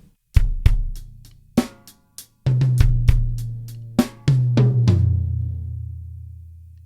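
Drum kit playing a halftime groove from a song, with sharp snare and kick hits and descending tom fills across small, medium and floor toms, close and loud, the final toms ringing out.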